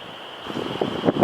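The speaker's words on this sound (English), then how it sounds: "I apologize for the wind. It's just relentless today." Strong, relentless wind blowing outdoors around a farmhouse, a steady rushing roar with gusty buffeting bursts growing louder toward the end.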